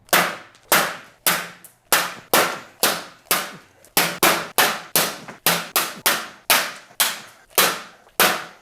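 Rocks striking test panels coated with liquid paint protection film, ceramic coating and bare paint, landing as roughly twenty sharp, loud clacks in a fast, uneven volley, each impact ringing briefly before the next, with no voices.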